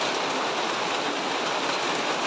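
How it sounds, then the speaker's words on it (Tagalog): Heavy rain pours in a dense, steady roar of broadband hiss that stays loud and unchanging throughout, with no talk over it. "At ngayon talagang lakas ng ulan."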